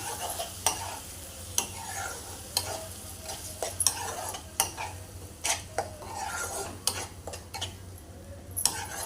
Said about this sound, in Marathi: आता छान मिक्स करून घेऊया आपण